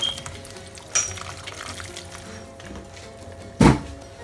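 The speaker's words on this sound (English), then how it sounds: "So I'm going to pour hot water on this." Hot water is poured over dry fish in a kitchen during preparation for Nigerian ogbono soup: a soft pouring wash under faint room noise, a brief thunk early on, then a louder splash near the end.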